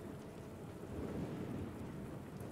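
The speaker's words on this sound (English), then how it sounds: "It's going to be nice and rainy." Steady rain with a low thunder rumble fills a stormy scene in the video game Last Day of June, a continuous dense wash with no voices.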